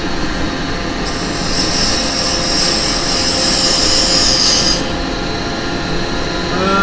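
A wood lathe turns a pot blank while a tool cuts a tenon on its end: a steady motor drone with a loud, continuous scraping hiss from the cut that stops near the end while the machine keeps running.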